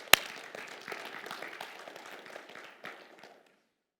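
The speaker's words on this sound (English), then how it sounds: "Yeah, clap." A church congregation applauds in a brief, moderate burst of scattered clapping that fades out within a few seconds.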